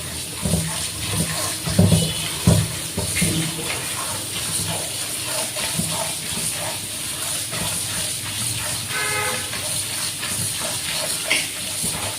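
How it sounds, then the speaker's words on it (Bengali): Dondokolosh leafy greens mixed with other field greens are washed by hand, with a steady hiss of running water and close sloshing and rubbing that is loudest early on. "এই যে আমি শাকগুলো এখন ধুয়ে নিব, দণ্ডকলর শাক, সাথে কয়টা মিশালি দিয়ে দিছি।"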